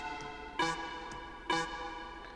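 A short HI3 synth stab from the House Improvements sample pack hits twice about a second apart, each bright burst cutting over a faint sustained synth pad.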